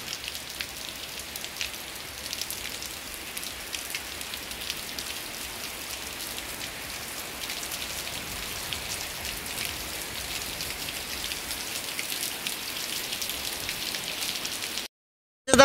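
Steady rain pours down at a Sai Baba temple, a dense, even hiss of drops striking surfaces that holds unbroken for about fifteen seconds before cutting off abruptly.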